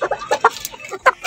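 Hens cluck in short, irregular bursts close by, a few quick clucks spread across a brief moment with no talking.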